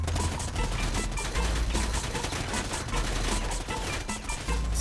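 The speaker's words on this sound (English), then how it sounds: "I heard gunshots." Dense, continuous gunfire in the Predator video game, a rapid barrage of overlapping shots and bursts that stays loud throughout with no pauses.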